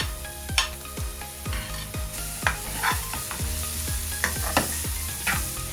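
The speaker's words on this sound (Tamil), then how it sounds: "இப்போ அடுத்ததான் நான் அந்த வெட்டி வச்சிருக்கிற வெங்காயத்தை போட போறேன்." Chopped onions frying in a pan, a continuous crackling sizzle punctuated by rhythmic scrapes and clinks of a spoon stirring, close and clear with no talking.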